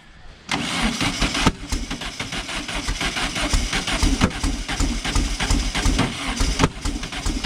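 A car engine fitted with old spark plug wires cranks and sputters, then catches and runs unevenly with repeated rough pulses, fairly loud and close.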